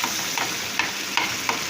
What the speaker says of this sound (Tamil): இப்போ வதக்கிட்டு காமிப்போம்.